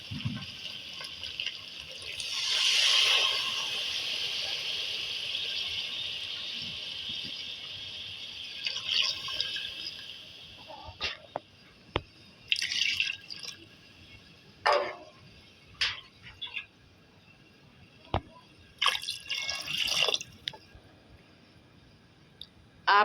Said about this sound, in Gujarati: પછી નાખશું પાણી